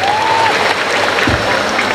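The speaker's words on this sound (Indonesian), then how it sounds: "Mana tepuk tangannya?" Audience applause breaks out at an Islamic sermon in Panjalu, Ciamis, a loud, dense patter of many hands with a brief tonal whine and a low thump partway through.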